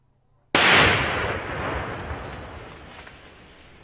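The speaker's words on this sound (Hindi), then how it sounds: "और विस्फोट कर ये बम नष्ट किए गए हैं" A single loud, sharp blast from a controlled detonation of IED bombs erupts after a moment of quiet, followed by a long rumbling roar that slowly fades over several seconds.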